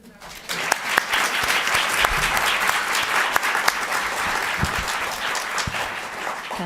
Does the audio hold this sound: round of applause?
yes